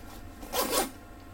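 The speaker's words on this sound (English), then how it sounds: "Feels like metal zippers, metal teeth with these nice pulls." A metal-toothed zipper with a pull on a bag is drawn once in a short, raspy zip that swells and fades over about half a second, close and fairly quiet.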